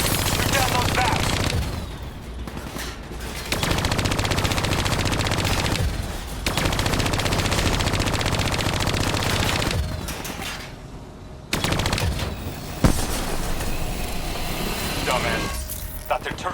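Sustained automatic gunfire from the Call of Duty: Black Ops 3 video game as bats are shot down, loud and nearly continuous bursts with brief pauses, layered with game effects.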